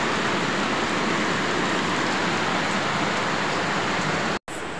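Heavy rain pours over the Camella Bacolod North area of Bacolod City in the Philippines, a dense, constant, nearby wash of noise with one brief dropout near the end.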